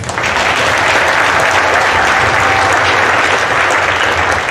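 Graduation audience of family and friends applauding the class of 2021 at a high school ceremony, a dense, loud, steady wash of clapping that fills the whole stretch with no talk.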